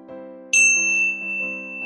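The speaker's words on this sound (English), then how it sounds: "And when you hear the bell," A meditation bell in a seated yoga class struck once, its bright ding sustaining and slowly fading over a steady low drone in the background, clear and close with no talking.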